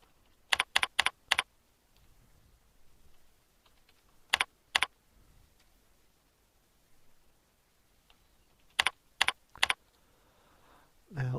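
Keys clatter on a computer keyboard in short, crisp bursts of three or four strokes separated by quiet pauses, close and clear in an otherwise still room.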